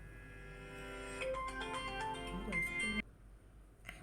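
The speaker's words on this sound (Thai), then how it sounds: "ต้องขออภัยด้วยมีสายเข้านะ" A phone rings with an incoming call, a bright melodic ringtone playing for about three seconds with a voice faintly underneath before it cuts off abruptly, leaving quiet room sound.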